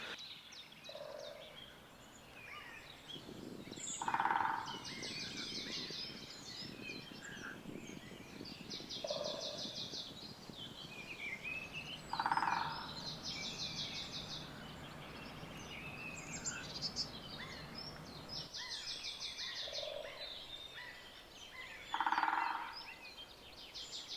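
Several birds call and sing in an agroforestry plot with woodpeckers about, including green, grey-headed and black woodpeckers, giving repeated chirps and brief louder calls every few seconds over a steady background.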